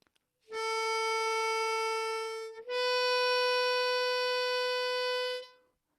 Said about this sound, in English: And a tongue block might sound like this.